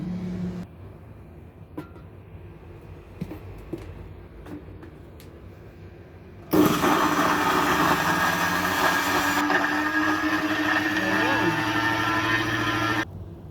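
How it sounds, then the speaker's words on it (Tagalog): After a quiet stretch with faint clicks and handling, a blender motor kicks on loudly and whirs steadily blending a celery smoothie, shifting pitch once before cutting off. "So, ito na ang ating blender guys."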